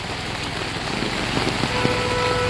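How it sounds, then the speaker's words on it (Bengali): Heavy rain pours steadily near the bridge over the Muhuri River in Belonia, a dense, even hiss with faint patter and a distant vehicle hum beneath. "এখনও প্রচণ্ড গতিতে বৃষ্টি হচ্ছে"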